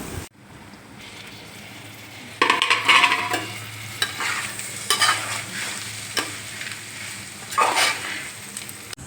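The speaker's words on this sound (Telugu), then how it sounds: "ఈ స్టేజ్లో వచ్చిన తర్వాత మనం కింద నుంచి కలుపుకోవాలి అడుగంటిపోకుండా" Bitter gourd curry, a tamarind-based stew, is stirred and scraped from the bottom of a pan while it bubbles and sizzles steadily, with louder scraping bursts of the spoon at intervals and no talking.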